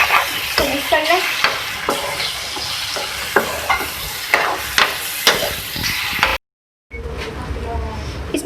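A spoon stirs a sizzling tomato mixture for baingan bharta in a frying pan, with repeated scraping and tapping strokes over a constant close-up fry and a short drop to silence near the end.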